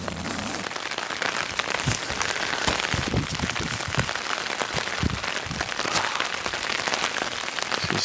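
Steady heavy rain patters on the surface around a kayak during a fishing trip at Hamburgsund, a dense continuous hiss with scattered louder drops and no talking.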